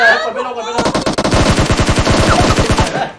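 Automatic gunfire erupts in a battle royale shooter on mobile, a rapid, loud burst of evenly spaced shots lasting over two seconds after a brief moment of quieter sound.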